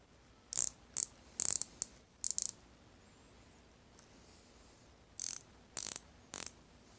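A VIM DFXL100 long XL ratchet wrench clicks in several quick bursts of sharp ratcheting, then falls quiet before a few more bursts near the end, close and clear with no talking.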